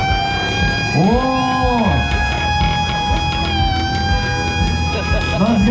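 Special siren fitted to a vehicle wails in loud, rising and falling sweeps close by, with a short exclamation from a voice partway through.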